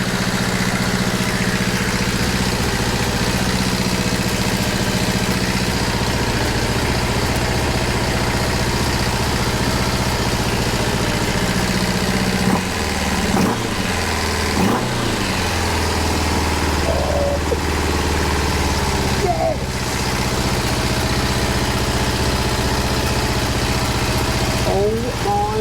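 A rebuilt Kawasaki GTR1000 motorcycle engine runs steadily at idle with a low, continuous hum close by, and a few brief clunks and shifts in the note partway through.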